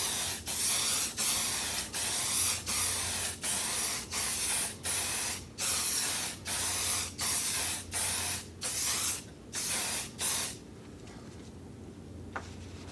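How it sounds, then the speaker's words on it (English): A spray can lays finish onto a repaired wood door in about a dozen short, evenly spaced hissing bursts, close and loud, before falling quiet near the end. "all we're going to do is spray the repair area and a little bit of the rail, a little bit of the style would look like this"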